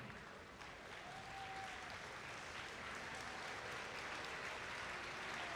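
Audience at a robotics district event breaks into sustained applause while mentors and coaches stand, a dense wash of clapping that holds steady and fairly loud throughout.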